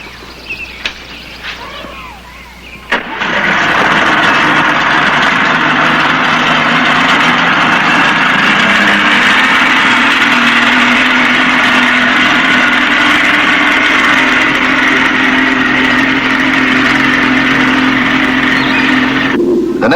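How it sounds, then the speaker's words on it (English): A boat engine starts abruptly after a few seconds of quiet, then runs steadily and loud at a constant drone for the rest of the time. "Now you start your engine."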